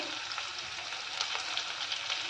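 Onions frying in a pan for tomato rice give a steady, close sizzle with a faint crackle that holds evenly for a couple of seconds, with no one talking.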